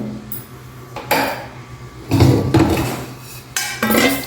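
Roasted upma ingredients being scraped and tipped from a metal pan onto a plate, several separate bursts of scraping and clanking metal, close and fairly loud.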